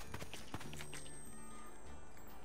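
Horse hooves clip-clop in the Old West level of The LEGO Movie 2 Videogame, a quick run of soft, close beats fading to a quiet game ambience.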